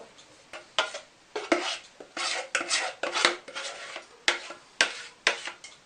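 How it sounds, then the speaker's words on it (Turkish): Cake batter for trileçe going from a bowl into a glass baking dish, heard as a run of irregular utensil scrapes, taps and sharp clinks against glass and bowl, fairly close and with no talking. "Bunu borcama dökeceğim."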